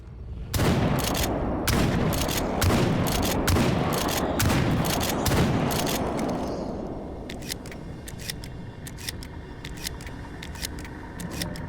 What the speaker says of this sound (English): I didn't stop firing until it dropped